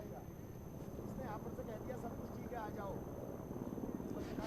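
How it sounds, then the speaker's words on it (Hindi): A Chinook helicopter arrives at Kedarnath, its rotor and engine droning as a steady low rumble beneath continuous news-reporter talk, moderately distant and fairly faint. "ये चिनूक हेलीकॉप्टर हम देख पा रहे हैं"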